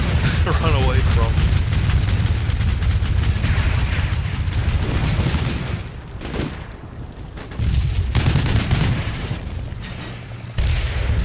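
Heavy gunfire and booming artillery in a video game battle against an American Stryker formation, loud dense volleys with brief lulls, under voices talking.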